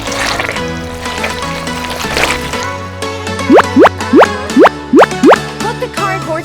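Slime or liquid is poured into a tiny miniature craft tank, first as a rushing trickle and then as a run of six or seven loud, evenly spaced glugging plops close by.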